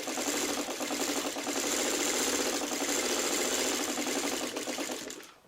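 A sewing machine stitching Dresden quilt pieces, a steady fast mechanical whirring hum that runs continuously up close, then stops abruptly at the end.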